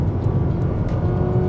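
A 2020 Nissan Sentra accelerating on a highway at about 80 km/h, a loud steady engine drone with road and wind noise rising slightly.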